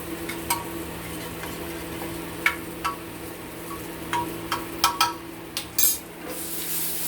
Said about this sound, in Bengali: এবার একটু হাতা দিয়ে আমরা ডালটাকে নেড়ে নেব